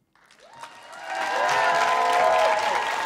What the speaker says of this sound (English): Good work, good work. Keep clapping.